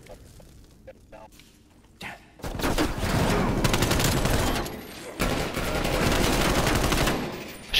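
Rapid bursts of gunfire in a competitive shooter match, loud and close, with a short quiet stretch and then two long sustained volleys with only a brief pause between them.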